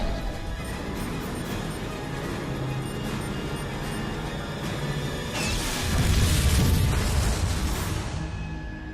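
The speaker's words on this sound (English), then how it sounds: "What with it being a nuclear explosion right next to a 30-foot long shark?" Nuclear blast from the monster film Mega Shark vs Kolossus, detonating beside a giant shark: a dense, continuous roar of rumble and crashing debris that swells louder and brighter past the midpoint before tapering off.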